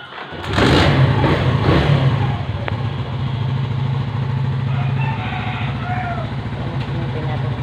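A motorcycle engine starts up and is revved hard while warming up, a loud burst of throttle near the start that then settles into a steady, close idle rumble.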